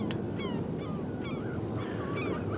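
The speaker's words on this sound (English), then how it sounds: "hearing the noise of birds. Quack, quack." Several birds call in short honking, quack-like bursts by the sea, spaced across a steady background of wind and surf, with no talking.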